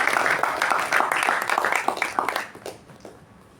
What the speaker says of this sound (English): With a thunderous round of applause, let's welcome Toastmaster Jyothi Rao onto the stage.